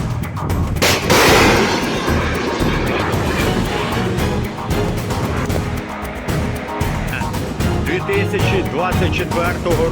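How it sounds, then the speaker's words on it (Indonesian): A loud whooshing roar of a missile launched close by at a Russian fighter jet by Ukrainian forces, followed by a sustained rumble and rushing noise as it flies off, with voices over it. "Ракета пішла за ціллю."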